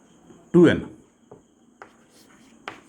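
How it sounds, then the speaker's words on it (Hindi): Chalk writes on a board during a genetics lecture in a few short, scratchy strokes spaced apart, with a voice speaking briefly near the start. "लिखने के लिए हम लोग ऐसे लिखते हैं"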